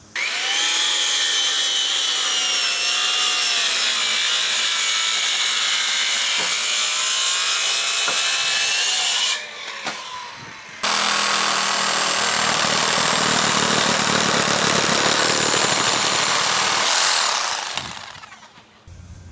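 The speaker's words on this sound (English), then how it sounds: "We're going to make a cut through the top. I don't think my blade's going to make it. We may have to finish it with the recip." Power saw cutting through the top of a thick wooden header during house framing, a loud, sustained whining buzz with shifting pitch, a short pause midway, then a second long cut that winds down at the end.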